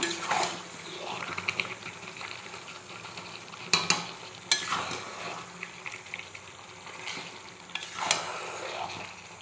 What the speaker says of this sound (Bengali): বিশেষ করে মাংস এটাকে এখন কষাচ্ছি